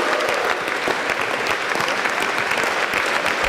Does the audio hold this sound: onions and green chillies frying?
no